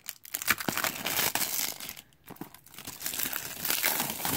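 Plastic shrink wrap crinkles and tears as it is pulled off a 1999 Upper Deck MVP Football hobby box of trading card packs, a close, continuous crackling with sharper rips scattered throughout.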